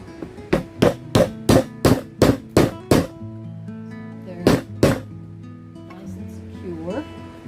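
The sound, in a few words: hammering wooden pieces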